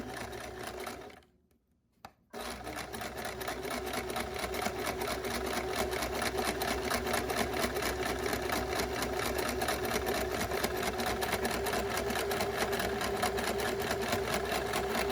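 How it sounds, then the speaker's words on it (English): Sewing machine stitching a fabric face mask panel, a steady fast mechanical whirring hum running close and continuous after a brief pause near the start. "So you watched me sew the first panel."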